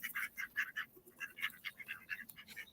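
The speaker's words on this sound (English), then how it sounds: "These little ducks. I'm not scared of ducks." Small ducks quacking in a steady series of short nasal calls, a dozen or so in quick succession, faint and somewhat distant over low background noise.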